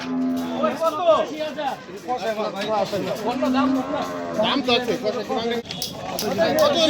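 Cows low now and then at the Hazratpur cattle market during the Qurbani season, their calls mixed into a busy hubbub of nearby voices and bargaining chatter.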